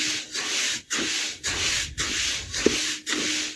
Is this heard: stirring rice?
yes